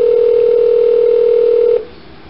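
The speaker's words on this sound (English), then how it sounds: "Started to give me a message machine, and then it kicked over to ringing off the hook." Steady telephone call tone on a line to a senator's office that has blocked the caller's number, a single continuous loud tone holding for nearly two seconds before cutting off abruptly, leaving quiet line hiss.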